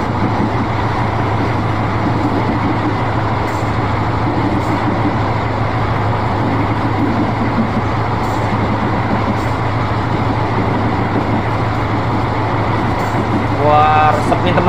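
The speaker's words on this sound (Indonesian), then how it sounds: "Tuh, sensasi naik kereta api keren." Locomotive of the Pandalungan train shunting in reverse, heard from on board: a loud, steady low rumble and rolling drone lasting throughout, with a brief higher squeal near the end.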